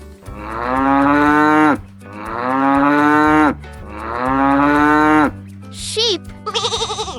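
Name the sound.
cow mooing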